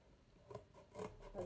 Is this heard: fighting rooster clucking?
no